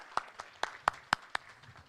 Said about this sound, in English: So actually all this clapping goes to my assistant Datta